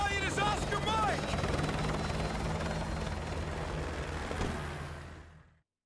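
A helicopter in Modern Warfare 2 Remastered drones with a steady thudding rotor close by for several seconds before it cuts off abruptly.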